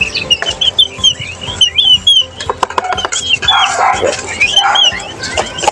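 Chickens cluck and crow close by in a busy yard, with short repeated calls and a dog barking in between.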